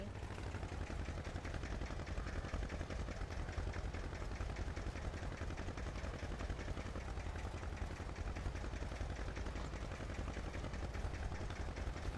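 A tractor pulling a seed drill sows grass seed, its engine running continuously with a faint, low, even rumble and light clatter and no breaks.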